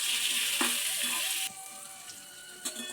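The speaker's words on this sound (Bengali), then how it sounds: "1 মিনিট মতো আমি কুমড়োটা আলুটা একটু নেড়ে নিলাম।" Pumpkin and potato pieces stirred as they fry in a pan over medium heat, with a dense sizzle that drops quieter partway through and a few soft scraping knocks from the stirring.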